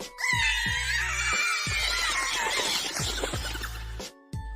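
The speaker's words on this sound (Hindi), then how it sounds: "ये देख के बाकी लड़कियां फिर चिल्लाती है जोर से।" Anime girls scream loudly together in a sustained, shrill chorus over rhythmic low background music, cutting off abruptly near the end.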